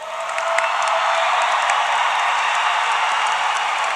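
Sustained applause and cheering from a large crowd at a high school graduation ceremony, steady and dense throughout with no pauses, people clapping together at close-to-middle distance.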